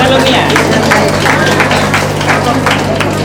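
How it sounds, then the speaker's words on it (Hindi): Audience applause welcoming guests at a ceremony honouring a newly ordained priest, with steady dense clapping throughout, crowd noise mixed in and a constant electrical hum underneath. "जोरदार तालियों के साथ पुनः एक बार सभी का अभिनंदन करें"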